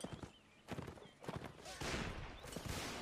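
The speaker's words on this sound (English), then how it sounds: "Random horse going by." A horse gallops past during a Mount & Blade line battle in the North & South mod, with uneven hoof clip-clops, a neigh and scattered gunfire under faint voices.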